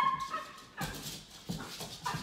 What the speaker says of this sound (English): You got the dogs barking.